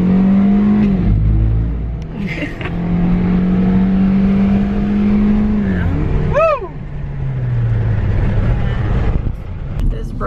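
A car drives along the narrow one-lane Road to Hana, its engine droning loudly and rising and falling in pitch as it shifts and accelerates, with a brief whistling sweep partway through.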